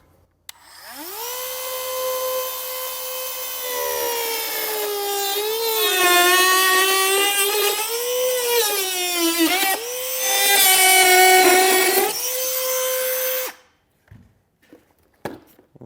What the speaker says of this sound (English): I'll just come back and cut the remaining portion out with a Dremel tool